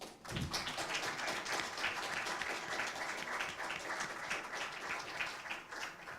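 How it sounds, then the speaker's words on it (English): An award ceremony audience claps for the jury in a steady, dense wash of applause lasting several seconds, heard from within the hall. "One more applause for the jury."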